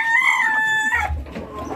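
A mother hen with newly hatched chicks gives a loud, close vocal call lasting about a second, followed by softer low rustling.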